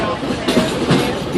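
The Magic Kingdom railroad train rumbles along, a loud, steady mechanical roar with faint rhythmic clatter of the cars and wheels.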